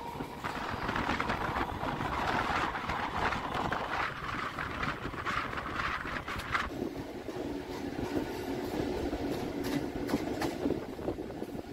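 A Naihati–Sealdah local train pulls out of a station near Kakinara, a steady broad rumble with rail clatter and wheel noise that shifts tone partway through, heard from close by.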